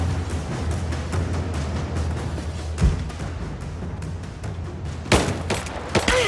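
Gunfire and a grenade in the video game Rise of the Tomb Raider: scattered, fairly quiet shots crackle throughout, with sharper blasts around the third second and a stronger burst near the fifth.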